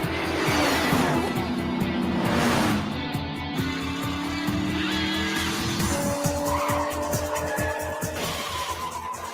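Hot Wheels World Race cars skid and crash, with loud, sustained tire squeals and engine whine sweeping in pitch, layered with scraping and impact noise throughout, close and dense with no speech.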